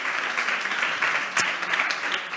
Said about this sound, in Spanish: Dale un aplauso a nuestro Dios maravilloso